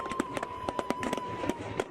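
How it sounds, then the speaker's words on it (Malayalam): Thrissur Pooram festival fireworks: a rapid, irregular string of sharp crackling bursts, about a dozen in under two seconds, somewhat distant and moderately loud over a faint steady tone. "പൂരത്തിൻ്റെ ഉച്ചകോടി വെടിക്കെട്ട് തന്നെ."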